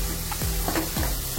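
Food sautés in a pan with chutney and salt, a steady sizzle running under repeated scraping strokes of a spoon stirring the mixture, close and continuous without any talk.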